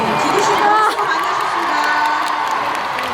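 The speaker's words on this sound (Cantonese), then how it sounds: "大家一齊俾啲掌聲啊" A large crowd at a 2016 concert in Hong Kong cheers and whoops in a loud, sustained roar while a host talks over the noise.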